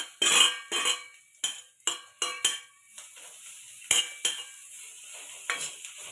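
Vegetables are stirred in a pan in a series of sharp, close scrapes and clatters with a faint sizzle beneath, each stroke a distinct burst separated by brief pauses.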